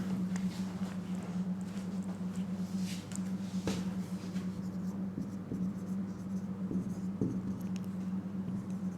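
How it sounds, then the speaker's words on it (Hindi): Chalk scratches steadily across a board as a sentence is written, with quick taps and strokes over a constant low hum in a classroom, close and moderately loud. "अब इस पर थोड़ा सा एक मैं सेंटेंस लिख देता हूँ।"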